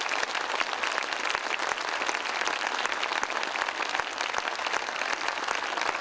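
A large audience at a Hindu religious gathering breaks into thunderous, continuous applause in honor of a revered guru, a dense, even roar of clapping that holds steady throughout.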